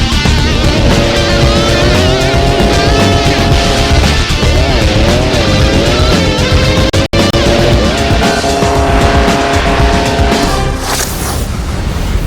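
Motorcycle engines in a stunt video game, with bikes modelled on production and custom real-world machines, rev loudly and continuously with rising and falling pitch, briefly cutting out once near the end.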